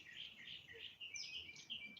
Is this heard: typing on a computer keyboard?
no